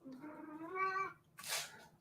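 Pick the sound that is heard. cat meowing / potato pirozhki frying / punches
cat meowing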